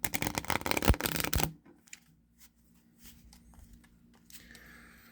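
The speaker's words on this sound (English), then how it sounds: "let's give the deck a good shuffle" A deck of playing cards is shuffled in one quick riffle with a crisp, fluttering burst. A few soft taps and creaks follow in near silence.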